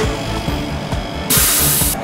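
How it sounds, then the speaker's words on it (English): ElmaTech Midispot AV fully automatic spot welding machine welding a steel body panel: a rhythmic mechanical pulsing, then a sudden loud hissing burst lasting about half a second, heard close up. "Weld each panel without having to make any adjustments."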